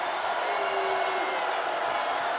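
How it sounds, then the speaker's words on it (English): A basketball arena crowd at Bramlage during a women's college game, a dense, steady roar of cheering spectators filling the hall. "Crowd comes to life in Bramlage."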